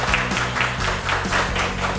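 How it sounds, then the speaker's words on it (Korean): A studio audience at a Korean lecture show claps steadily to welcome a speaker, the dense applause running under upbeat background music. "큰 박수로 모셔보겠습니다"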